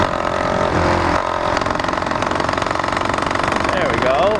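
An 80cc motorized bicycle engine runs under a little throttle with a steady, rapid two-stroke putter and buzzing vibration, close and loud, while a person talks over it.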